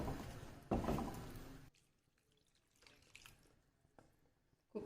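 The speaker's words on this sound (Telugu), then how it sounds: "నీళ్ళు యాడ్ చేస్తాను." Water poured into a pressure cooker of mutton curry, one brief loud splash near the start followed by quiet with faint small kitchen noises.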